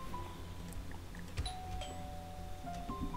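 A doorbell's two-tone ding-dong chime rings out in the SimCity video game, a clear electronic chime over a steady low hum of game ambience and music.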